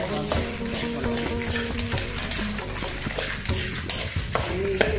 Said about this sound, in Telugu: మాడిపోకుండా కలుపుతూనే ఉండాలండి